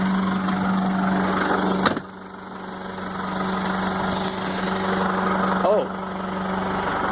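A truck cab's engine rumbles steadily as the cab is driven into a shop, loud and close with a brief dip in its drone, while a voice talks over it.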